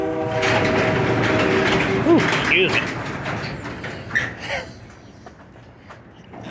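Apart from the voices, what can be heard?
passing train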